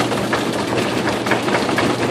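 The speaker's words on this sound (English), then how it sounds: "Can I have a drum roll, please?" A birthday-party audience at a magic show in the Poconos makes a drum roll, a dense, steady rumble of rapid patting that holds for about two seconds without a break.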